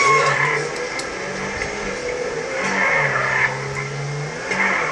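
A damaged car drives along a road with a steady engine rumble and road noise, the motor swelling slightly now and then, with no voices.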